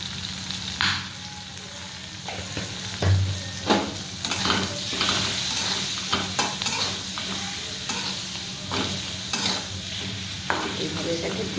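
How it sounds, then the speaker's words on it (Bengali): Onions sizzle in a pan with bay leaf, a little cumin and mixed spice while a spoon stirs them, steady frying hiss broken by scraping strokes, close by, with no voices. "এইভাবে এটাকে 2 মিনিট ফ্রাই করব।"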